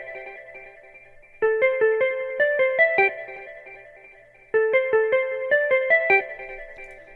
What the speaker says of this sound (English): This is the jazz guitar patch.